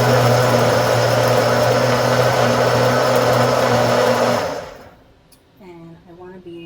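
A blender running on its puree setting whirs loudly and steadily through fruit for a limber drink. After about four seconds it stops, and a voice is left speaking quietly.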